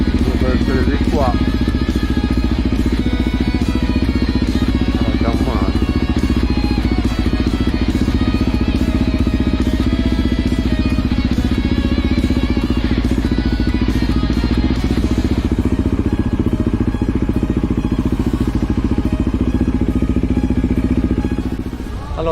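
Motorcycles parked and running at a motorcycle rally in the central town square of Bitti, Sardinia, a loud, continuous engine rumble with revving and idling throughout, while people talk over it.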